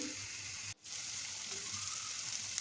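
Chopped onions frying in mustard oil in a pot on the stove, a soft steady sizzle with a brief dropout early on, close and fairly quiet, no voices.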